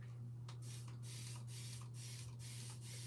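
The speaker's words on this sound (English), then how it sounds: "I might need to spray a little water on it" Short hissing bursts of a spray bottle misting water onto a craft stencil, several quick pumps in a row against a steady low hum.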